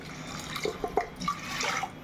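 Water is poured into dal cooking for a pressure cooker, giving a few close, soft splashes and drips in a small burst, with no voices.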